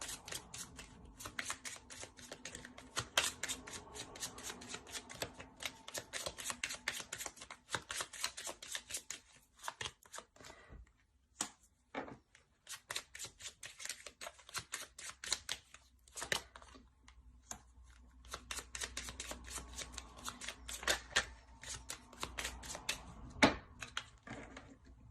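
Tarot cards being shuffled by hand, rapid papery riffles and slaps in dense bursts with short pauses, close and fairly quiet, no talking.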